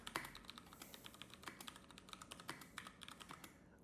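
Rapid clicking of keys on a computer keyboard, quiet and close, in quick irregular bursts with no talking.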